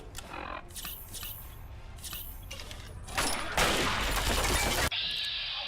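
Assault rifle fire in the Fallout 3 video game, scattered single shots followed by a sustained loud burst of automatic gunfire lasting over a second, then a sudden cutoff into a lingering ring.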